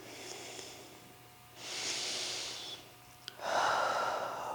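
Deep breathing during a gentle yoga stretch: two slow, airy breaths close to the mic, a long exhale, a pause, then a fuller rushing breath, with no talking.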